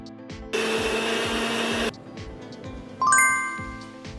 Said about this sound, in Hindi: शक्कर को हम मिक्सी में थोड़ा सा पीस लेंगे।